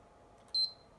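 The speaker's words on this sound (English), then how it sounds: "hold the power button until you hear three beeps" Short electronic beep from a PlayStation 3 while its power button is held for safe mode, a single clear tone heard alone over faint room noise.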